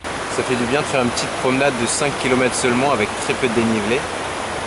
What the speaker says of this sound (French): La cascade est super belle.